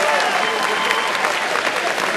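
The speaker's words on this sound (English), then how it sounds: "give yourselves a hand" Convocation audience applauding, a dense, loud, sustained clapping from a large crowd with no break, filling the hall.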